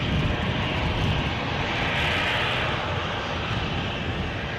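An easyJet airliner at Edinburgh airport roars steadily, a broad, sustained jet engine rumble heard from a distance, even in loudness across the whole stretch with no talking.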